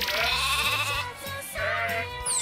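Sheep bleat on a farm in Ishikari, Hokkaido, with loud, close, wavering calls overlapping one another continuously throughout.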